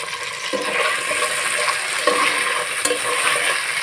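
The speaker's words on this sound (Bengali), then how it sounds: "দিয়ে আমি একটু সময় নিয়ে সব কিছু ভালোভাবে ভেজে নিব" Ingredients with chopped onion and salt fry in hot oil for a spicy rohu fish curry, giving a steady close sizzle with occasional stirring scrapes and pops throughout, no voices.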